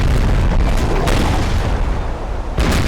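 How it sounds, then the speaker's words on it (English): Naval cannon fire in a Napoleon Total War sea battle, heavy booming blasts rolling almost continuously, with sharper bursts near the start, at about one second and near the end, loud and close with no voices. "Point blank fire."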